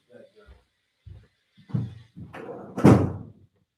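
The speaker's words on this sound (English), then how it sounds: "let me shut this door" A door being shut indoors gives a solid thud near the end, preceded by softer handling bumps and shuffling, close and fairly loud.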